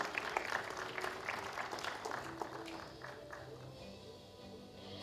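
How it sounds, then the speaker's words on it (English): Faint, distant applause at an awards ceremony, a soft crowd patter with a few sharper claps early on that gradually thins and fades over five seconds beneath a low room hum. "Ladies and gentlemen, a huge round of applause."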